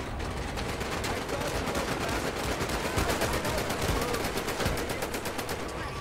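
Dense, continuous gunfire from Medal of Honor: Above and Beyond, a WWII VR shooter, with rapid automatic bursts and explosions layered into a loud, unbroken barrage lasting throughout.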